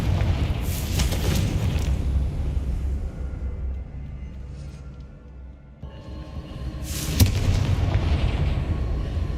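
Confringo fire spell in Hogwarts Legacy, a heavy rumbling blast that fades to a quieter lull, then a second sharp crack and a loud rumbling burst, with no talk.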